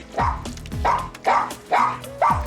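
A dog barks repeatedly in a steady rhythm, about five sharp, close woofs with short pauses between them.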